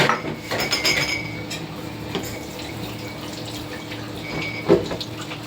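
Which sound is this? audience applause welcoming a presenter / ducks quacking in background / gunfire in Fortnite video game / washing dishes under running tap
washing dishes under running tap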